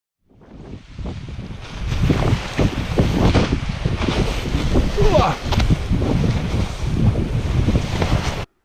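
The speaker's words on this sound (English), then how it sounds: "We had a 10 to 15 knot wind out of the southwest as we sailed from Block Island to Newport" Wind buffets the microphone and waves wash against the hull of a sailboat under way in a 10 to 15 knot southwest breeze between Block Island and Newport, a steady rushing roar with surging swells.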